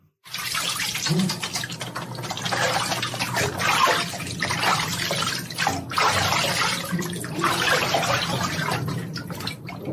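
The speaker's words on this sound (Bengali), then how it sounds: "অতিকায় বাথটাব, ওপরে ঝাঁঝরি, নিচে টিউবওয়েল থেকে পাম্প করে এখানে ধারা স্নানের ব্যবস্থা।" Water streams steadily from an overhead rose into a huge bathtub, fed by a pump from a tube well, a continuous broadband splashing rush close by with slight surges, running almost the whole clip.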